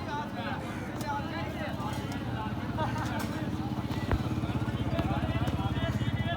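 A motorcycle rides through a vegetable market, its engine running steadily and close the whole time, with a busy crowd murmur and a brief knock partway through.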